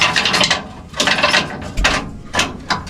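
A rusty B&W trailer hitch, being fitted to a 2005 Dodge Ram, slides into place with a run of close metallic scraping and grinding pulses, about four bursts in steady rhythm.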